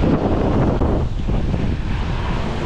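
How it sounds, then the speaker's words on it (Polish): Strong stormy wind buffets the microphone near the sea, a dense continuous roar with gusty surges throughout and no voices. "Ale ładnie dyma wiatrem"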